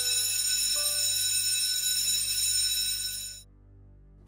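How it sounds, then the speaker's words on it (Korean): A fire alarm rings continuously at a steady pitch for about three and a half seconds, then cuts off abruptly. "그리고 곧바로 화재 경보 울리는 소리가 났지."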